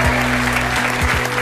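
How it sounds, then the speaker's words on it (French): An audience applauds a guest on a French talk show, a brief dense burst of clapping with a low hum underneath. "Je vous demande de l'applaudir."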